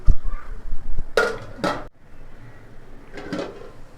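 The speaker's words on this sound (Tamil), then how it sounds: "அப்படியே மூடி போட்டுருவோம்." A metal lid clatters onto a pot of cooking potatoes on a home stove, giving two or three short, close, bright knocks, with quiet kitchen sounds before and after.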